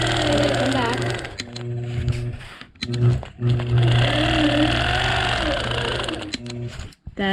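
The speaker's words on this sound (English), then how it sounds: "there's wax on these fabrics, so it might sound like it's popping, but I promise you it's okay" A sewing machine quilts crosshatch lines through waxed fabric in steady loud bursts of rapid stitching, with brief pauses and small popping clicks as the needle pierces the wax.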